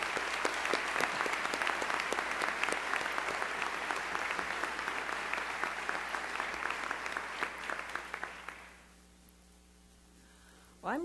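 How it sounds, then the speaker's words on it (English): Steady applause from an audience at a college opening convocation, dense and sustained clapping for about eight seconds before fading out, with a faint mains hum underneath. "Let's give them a round of applause."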